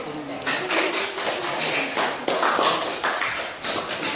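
A group in a school classroom session gives applause, a short burst of close, rhythmic clapping with repeated sharp slaps that keeps a steady pace throughout.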